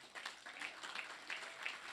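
Brief, faint clapping from a congregation during a church service, a soft, uneven patter of hands.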